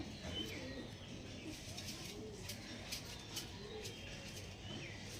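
Kalka pigeons coo in soft, low rolling calls close by, repeating over and over against a faint background hiss, with a few light chirps mixed in.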